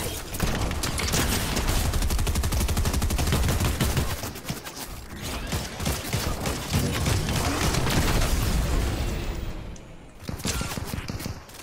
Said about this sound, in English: Shots behind us.